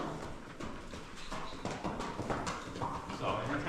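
Horse hooves clip-clop at a walk during groundwork training, steady irregular steps close by under a voice giving commands and talking.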